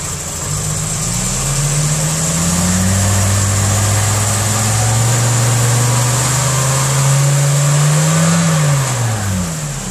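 A VW Golf Corrado G60 engine idles steadily, then revs up, holds a higher pitch and drops back to idle, loud and close throughout.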